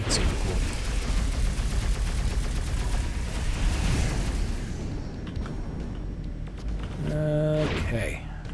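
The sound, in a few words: Gatling-style gun firing faster and faster in video game Overload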